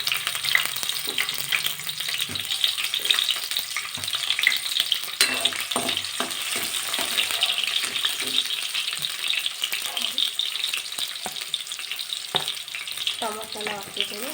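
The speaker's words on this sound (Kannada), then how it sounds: "ನೋಡಿ ಎಣ್ಣೆ ಕಾದಿದೆ ಇದಕ್ಕೆ ನಾನು ಈರುಳ್ಳಿ ಹಾಕಿದ್ದೀನಿ ಹಸಿಮೆಣಸಿನ್ಕಾಯಿ" Sliced onion and green chillies frying in hot oil, a dense steady close sizzle with scattered stirring knocks throughout, no talking.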